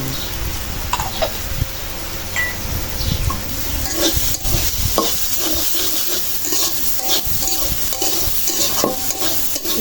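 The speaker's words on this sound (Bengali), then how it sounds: "নারকেলটা ভাজা হয়ে গেছে নামাই নিই" Coconut fries in mustard oil and is stirred around the pan, giving a loud, close, continuous sizzle broken by repeated scraping strokes and light clinks.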